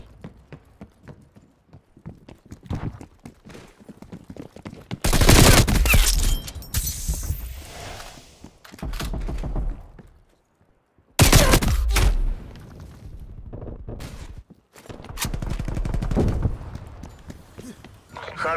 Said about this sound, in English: War machine firing.